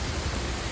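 Rain falling outdoors during a heavy monsoon spell, a dense, even hiss of drops with no pauses and no voices over it.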